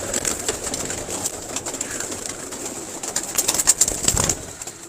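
Pigeons coo softly and repeatedly close by, with rustling and wing movement in the background and no talking.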